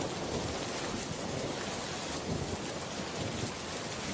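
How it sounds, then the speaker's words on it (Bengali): Steady, heavy rain pours in an animated storm scene, a dense continuous wash of noise with low thunder rumbling underneath and no voices. "দেখ বৃষ্টি শুরু হয়ে গিয়েছে।"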